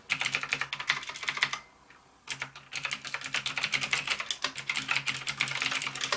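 Fast, clicky typing on a blue-switch mechanical keyboard, an NKEY R3 RGB, with crisp, loud key strikes, a brief pause partway through, then steady typing again.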